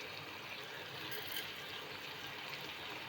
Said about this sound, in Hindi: बस पानी डाल के उसको पकने देंगे।